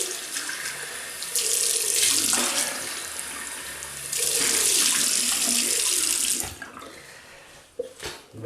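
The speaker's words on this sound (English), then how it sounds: "Right, we'll rinse off." Tap water runs steadily as shaving soap is rinsed off, a broad hiss that swells louder in two bursts and then cuts off with a few faint clatters and drips near the end.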